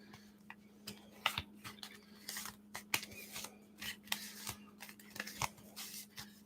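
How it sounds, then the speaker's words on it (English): Major arcana tarot cards are handled and shuffled close up, giving a string of quiet, irregular ticks and soft riffling snaps over a steady low hum, with no talking. "So I will wash and shuffle these."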